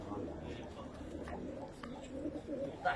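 Young pigeons in Baghdad coo softly at close range, low repeated calls under someone talking.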